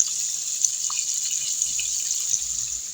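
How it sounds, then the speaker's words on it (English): Water pours steadily into a cooking pot for Jamaican rice and peas, a constant close hiss of running liquid with a few faint drips and clinks and no talking. "So, obviously, we are going to add some water."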